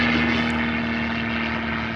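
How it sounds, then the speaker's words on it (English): An aircraft passing overhead gives a steady, droning engine hum with a sustained tonal whine, continuous and moderately loud for the whole stretch. "there's a plane flying overhead"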